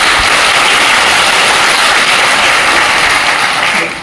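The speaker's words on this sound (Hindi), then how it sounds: "जोरदार तालियों से स्वागत होना चाहिए" Loud, dense applause from a crowd welcoming advocate Narendra Kasan at a Dalit rights gathering in Haryana, a steady wash of clapping that holds for about four seconds before tapering off.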